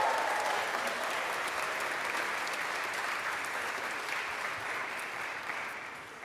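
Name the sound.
graduation audience applauding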